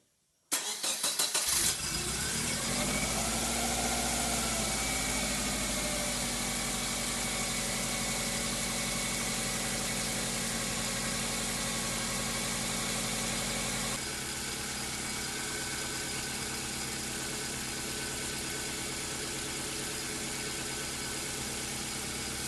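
A 1999 Subaru WRX, fitted with a new in-tank fuel pump, cranks briefly and catches, then settles into a loud, steady idle that carries on alone for about twenty seconds with no talking.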